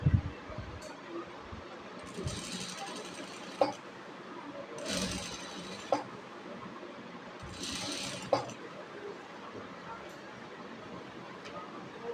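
A sewing machine stitching the collar of an Arabian jubba runs in several short bursts of whirring, separated by quiet pauses with small mechanical clicks, while a person speaks over it.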